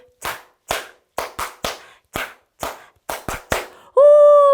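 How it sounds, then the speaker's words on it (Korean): About a dozen sharp, separate hand claps from children at a toddlers' Sunday church service ring out at uneven intervals in a quiet room, followed by a sustained bright electronic tone. "박수 소리"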